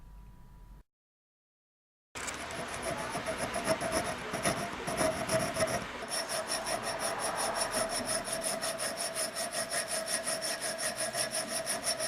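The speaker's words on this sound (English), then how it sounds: "drill several holes side by side and then file them out from the inside" A file works out a slot in a steel knife guard. Close, raspy back-and-forth strokes settle into a fast, regular rhythm after a brief silent gap at the start.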